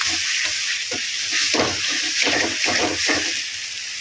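Oil sizzles steadily in a pan as curry leaf pickle fries while a spoon scrapes and stirs in repeated strokes, close by, with a constant hiss underneath.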